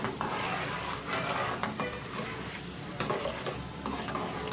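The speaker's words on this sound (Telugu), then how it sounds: "అన్ని పప్పులన్నీ మనం తీసుకున్న ఆవాలు, మెంతులు, జీలకర్ర, సాయి మినపప్పు, శనగపప్పు అన్నీ ఈక్వల్గా ఫ్రై అయ్యేటట్టు నిదానంగా కలుపుకుంటూ వేయించేసుకోండి" Mustard seeds, fenugreek, cumin, urad dal and chana dal frying slowly over low flame while being stirred steadily in a pan, a continuous close sizzle with scraping stir strokes.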